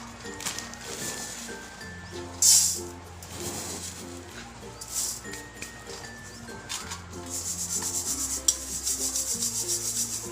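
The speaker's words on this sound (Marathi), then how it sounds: "आता पहिल्यांदा आपल्याला हे चाळून घ्यायचे असे एक चाळून घ्या खाली पेपर टाका किंवा असे भांडं ठेवा" Roasted poha flakes are sifted through a sieve with a continuous, close rubbing and rustling that swells rhythmically, over soft background music.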